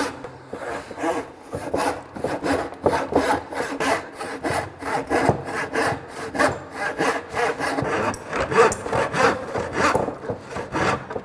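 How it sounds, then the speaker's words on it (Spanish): A hand saw cuts lengthwise along a wooden board in a steady back-and-forth rasp, each stroke loud and close, with a continuous rhythm and no talking. "el serrucho, a medida que vas avanzando, cuando cortas un tablero así a lo largo, se va endureciendo el corte"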